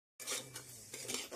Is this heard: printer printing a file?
no